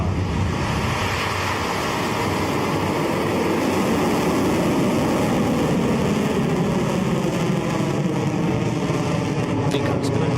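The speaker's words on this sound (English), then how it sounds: "Liftoff." Rocket Lab rocket lifts off, a broad continuous rumbling roar heard from a distance, steady and loud from start to finish without a break.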